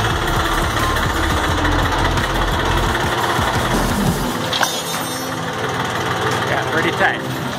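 A Ford tractor engine runs steadily in tight indoor quarters, a loud continuous low rumble with a rattly idle throughout, easing slightly in its low end partway through.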